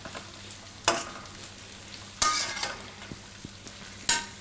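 Cauliflower and capsicum curry steadily sizzles and fries in a pan on a gas stove, with a few sharper scraping stirs cutting through the continuous hiss.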